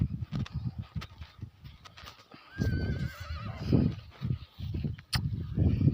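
A mare, mother of a five-month-old foal, whinnies with a long wavering neigh in the middle, amid nearby hoof clatter and shuffling on a village farm.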